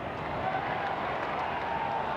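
Stadium crowd at a 1995 AFL match, Fremantle versus Sydney, reacting to a missed goal kick by the Dockers: a steady, broad roar of many voices with scattered applause, sustained and fairly loud throughout.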